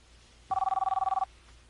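An old-style telephone bell rings in one short rapid trill of about a dozen strikes, clear and close in an otherwise quiet room.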